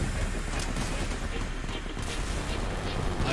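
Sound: artillery fire in the Crossout video game

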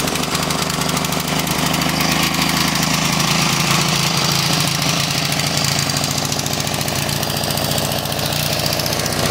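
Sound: old Briggs engine running on a John Deere sidewalk edger

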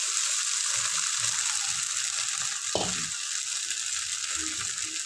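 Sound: potatoes frying in oil for khichdi

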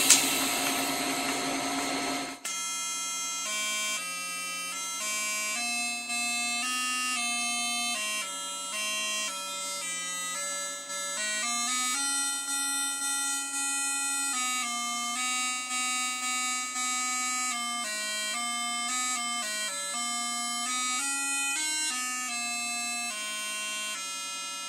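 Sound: MagicWave 2200 AC-DC TIG welder pulsing to play music

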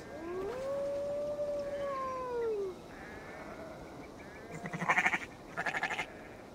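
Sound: sheep bleating in a video game

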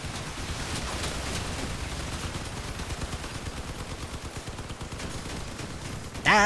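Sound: gunfire from a car's guns in the video game Crossout

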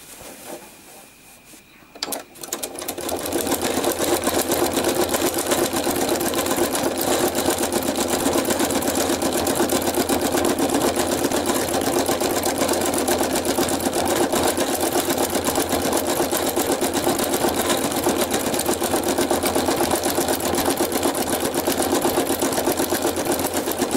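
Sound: sewing machine stitching an art quilt

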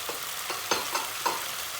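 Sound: tomato paste and tomatoes frying in a pot

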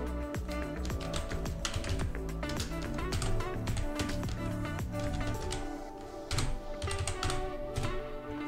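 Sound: typing on computer keyboard

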